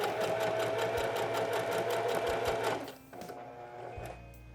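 Sewing machine stitching fabric right up to the edge, a fast, even mechanical chatter of needle strokes up close that stops abruptly, followed by faint clicks and a low hum.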